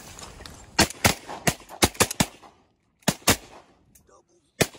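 Shotgun blasts from hunters shooting at wigeon and other ducks over water in Washington, about a dozen sharp, loud reports in uneven bursts, some in quick doubles, with gaps of quiet between them.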